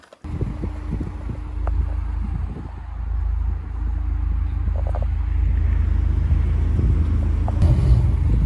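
A Honda S2K sports car driving, a steady low engine and road rumble heard from inside the cabin, gradually building in level with occasional light clicks.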